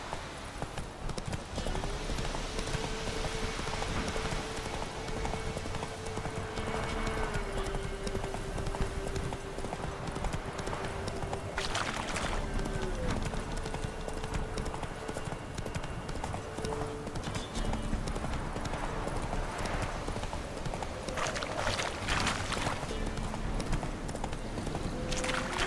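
Horse trotting in The Witcher 3 video game, steady rhythmic clip-clop of hooves throughout under a constant background hum, with a faint tonal drone and brief sounds of a voice now and then.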